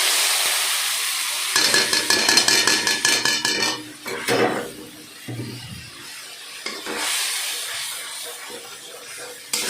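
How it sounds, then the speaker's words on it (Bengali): A spice paste with chili, turmeric and cumin powder is being sautéed in oil, with rapid clattering spoon scrapes against the pan for a couple of seconds, then softer sizzling and a few scattered stirring knocks, close up with no talk. "ভালো করে মশলাটাকে কষবো যতক্ষণ না মশলা থেকে তেল ছাড়ে"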